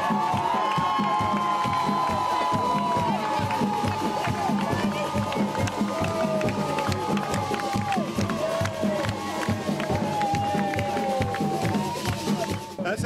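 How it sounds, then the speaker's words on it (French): A large outdoor crowd cheers and claps continuously at a swimmer's arrival, a steady roar of voices and applause with shouts rising above it throughout. "sous les applaudissements chaleureux de la foule venue saluer son exploit"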